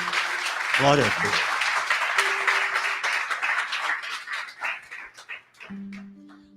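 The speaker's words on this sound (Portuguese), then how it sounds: "Dê um aplauso a Jesus" Church congregation clapping during a sermon, a steady wash of applause mixed with cheering voices and a spoken exclamation of praise, tapering off before a sustained musical tone enters near the end.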